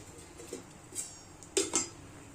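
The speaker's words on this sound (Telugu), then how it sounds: "ఒక ప్లేట్ తీసుకున్నాం ప్లేట్ కావాలి" A plate is picked up and set down with a few brief clinks and taps, two sharper ceramic knocks near the end, close by and quiet, with no talking.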